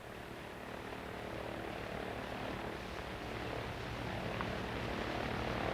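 Twin-engine propeller airliner of early American Airways, each motor rated at 1,450 horsepower, in flight: a loud, steady, close engine drone with a low throbbing hum that holds for the whole stretch, with no voices.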